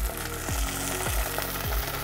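Cabernet wine sizzles and crackles loudly in a pan over medium-high heat with garlic, with a few soft scraping stirs at regular intervals.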